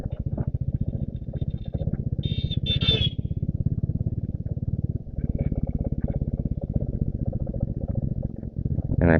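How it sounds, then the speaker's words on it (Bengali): Motorcycle engine braking while descending a hilly slope on a rural road in Bandarban, a steady low throbbing drone held close and loud throughout, with brief high squeaks partway through. "ইঞ্জিন ব্রেকে নামার চেষ্টা করতেছি"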